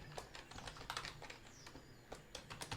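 Quick bursts of typing on a computer keyboard, clicks uneven and clustered, fairly close but quiet, with no voices.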